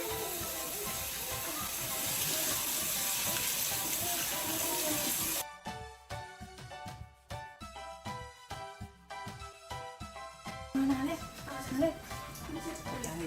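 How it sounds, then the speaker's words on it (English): Rice is washed in water in a home kitchen, a steady rushing hiss of running water for several seconds, then sloshing and rattling grains with short gaps as the water stops and starts. "This is how I wash my rice."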